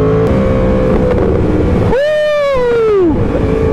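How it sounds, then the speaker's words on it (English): Yamaha R1M sport motorcycle engine roaring loud and close, with a sharp high-pitched rev that rises then drops away as the bike shifts down, under strong wind noise. "I know y'all hear those downshifts, man!"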